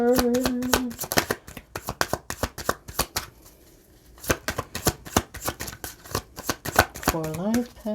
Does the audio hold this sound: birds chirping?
no